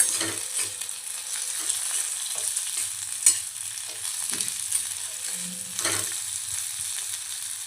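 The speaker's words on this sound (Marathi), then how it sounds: "आपण थोडासा गॅस फुल करून याला अजून थोडंसं फ्राय करून घेऊया ऑइलमध्ये" Bitter gourd pieces fry in oil on a high flame, a faint hiss under repeated clinks and scrapes of a utensil stirring in the pan.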